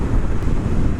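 Wind buffeting a microphone on a breezy day while riding a Triumph Speed Twin motorcycle, a loud, constant low rumbling roar filling the short moment with no voices.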